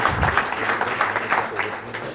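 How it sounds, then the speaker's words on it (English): A university audience gives a brief burst of applause for Dr. Rochon, a steady wash of clapping with voices audible underneath. "Let's give a round of applause to Dr. Rochon"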